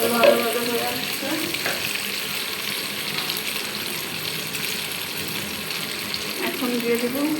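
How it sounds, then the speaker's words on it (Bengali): Ghee, ginger and garam masala fry in a pan for biryani, a steady close sizzle with a few stirring scrapes running throughout, no voices over it. "ঘি, আদা, গরম মশলা ভালোভাবে ভাজা ভাজা হয়ে আসছে"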